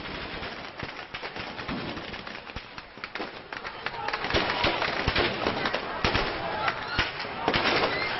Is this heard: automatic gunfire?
yes